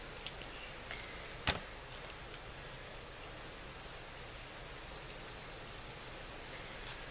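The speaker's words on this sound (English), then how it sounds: "It's raining a lot today." Steady heavy rain hisses as a broad, even wash throughout, with one sharp knock or drip near the start standing out above it.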